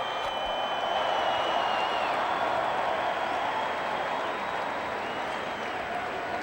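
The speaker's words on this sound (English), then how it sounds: "How about a round of applause for the city of Indianapolis" A large arena crowd applauds and roars continuously at the 2006 NCAA men's basketball Final Four championship game between Florida and UCLA in Indianapolis, a dense, loud, steady wash of clapping and cheering.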